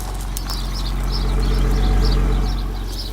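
A Porsche 986 Boxster's 2.7-litre flat-six idles steadily, a continuous low rumble that holds even throughout with a slight swell in the middle, close by, with no talking over it.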